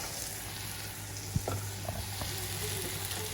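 Garlic paste sizzling in a hot pan for creamy garlic chicken, a steady even hiss with a couple of faint clinks partway through.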